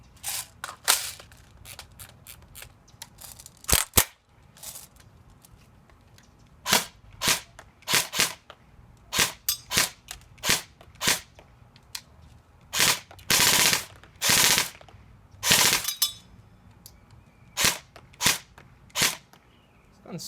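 A JG M4 RIS CQB airsoft rifle test fires BBs after repair, loud snappy shots in single pops and short bursts, some longer strings, spread irregularly across the stretch and close up.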